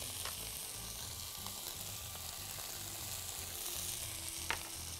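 Sage leaves sizzle in a hot frying pan with chicken fat, a steady crackling hiss under a low rhythmic hum, with a small clink near the end.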